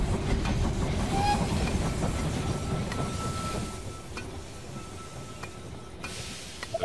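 Train in the They Are Billions video game rolling into a station, a low rumbling clatter with rhythmic clicks that fades gradually as it slows, heard alone without talk.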